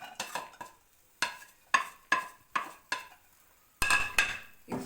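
Chopped ginger and garlic fry in two tablespoons of cooking oil as a spatula strikes and scrapes the pan in about eight sharp, clanking strokes, with a light sizzle between them.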